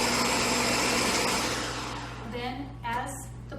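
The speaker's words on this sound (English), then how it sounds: "as the blender will be running" Blender running loud and steady as it purees chickpeas and garlic into hummus, the whir easing down toward the end, with brief clatter.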